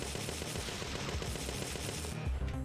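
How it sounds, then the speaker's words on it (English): Rapid gunfire in the video game Parasite Eve 2, a dense, loud, continuous burst of shots with game effects, ending abruptly. "Shoot all of the bullets and be done with this."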